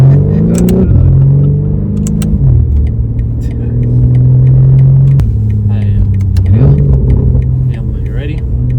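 A 900 bhp BMW M4 Competition revs hard and loud, its engine note sweeping up and down through several shifts and pulls, with people talking and shouting over the roar inside the car.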